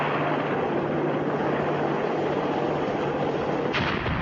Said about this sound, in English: Screaming straight and level at 140 knots, the Longbow closes on its target